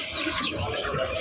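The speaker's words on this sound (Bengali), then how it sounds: "মুরগিরা এখন খাবার খাচ্ছে," Chickens feeding in a small rooftop coop, giving a continuous close wash of soft pecking, rustling and faint clucking.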